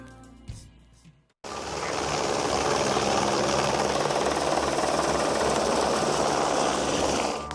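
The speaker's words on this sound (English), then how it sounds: "the helicopter's here" A steady, loud helicopter roar with constant rotor chop and engine drone, starting abruptly after a brief quieter moment and continuing unbroken, in Newfoundland.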